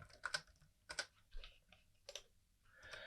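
Code typed on a computer keyboard, scattered quiet key clicks in small clusters with short pauses between them, close and faint.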